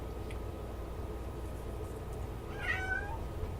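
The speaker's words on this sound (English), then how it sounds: "And there's a cat meowing." Near the end, a cat gives one faint, drawn-out meow during a radio show, over a steady low background hum.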